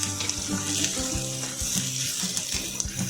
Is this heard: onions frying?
yes